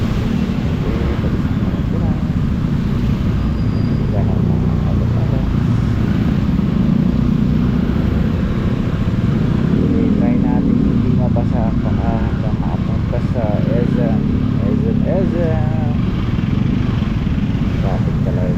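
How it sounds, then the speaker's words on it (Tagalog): Road traffic in heavy rain in Angeles City, Pampanga, heard from a motorcycle: a constant loud roar of engines and rushing wind with a muffled voice talking over it throughout. "Traffic talaga guys."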